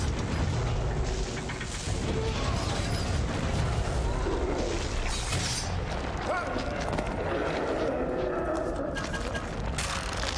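A mechanism being cranked in The Evil Within, with grinding, creaking ratchet-like clanks and heavy booming impacts layered over a dense, loud game soundscape.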